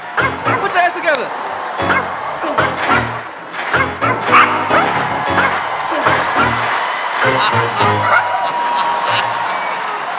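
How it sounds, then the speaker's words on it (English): Several small dogs yip and bark repeatedly on a talent show stage, the sharp barks scattered through loud crowd noise, cheering and people talking throughout. "They're Simon's dogs!"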